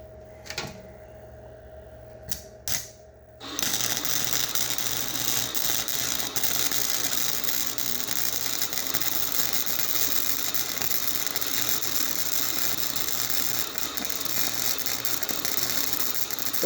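A 1200 W inverter welder laying a bead on rusty metal, a few short clicks and brief bursts at first, then a loud, steady crackling buzz that carries on unbroken and close, with no talk.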